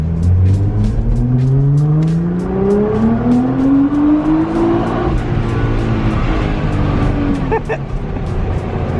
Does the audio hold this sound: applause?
no